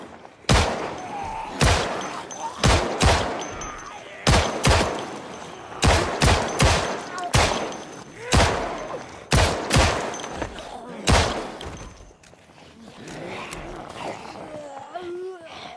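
Gunfire in Project Zomboid rings out as a series of loud, sharp shots spaced irregularly over several seconds, each with a short decaying tail, before the firing stops and quieter background sound remains.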